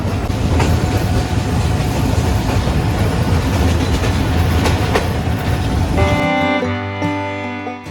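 Dewanganj commuter train of Bangladesh Railway pulling out of Bhawal Gazipur station, a loud, steady rumble and clatter of wheels on rails, with a sustained tonal drone taking over for the last two seconds as the noise thins.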